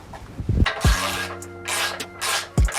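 A bicycle pedal bearing cartridge is threaded in by hand, giving a few close scraping, rubbing turns with short metallic ticks, loud and alone without talk.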